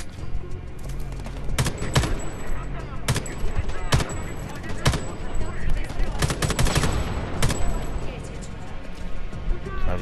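Repeated gunfire bursts and single shots in the shooter video game Homefront: The Revolution, sharp cracks scattered across a busy game soundscape while someone talks over them.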